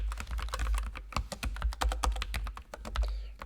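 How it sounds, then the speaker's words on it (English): Fast, forceful typing on a computer keyboard, a dense run of sharp, closely spaced key clacks with a heavy low thump under each stroke, loud and close, with no voices. "Typing hard, right?"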